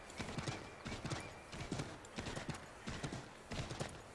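Horse hooves galloping in the video game Assassin's Creed 3, a steady rhythmic clip-clop in repeating bursts, loud and close, with an occasional whinny and no talk over it.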